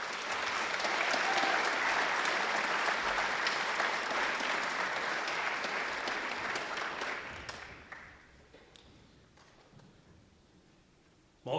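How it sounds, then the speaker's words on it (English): Audience in a school hall applauding National Honor Society students, dense sustained clapping from a large crowd for about seven seconds before tapering off to scattered claps and near quiet. "Let's give each one of these students a round of applause."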